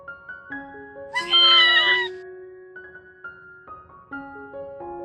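A black kitten gives a single drawn-out meow, close and fairly loud, over a backdrop of soft melodic music that continues around it.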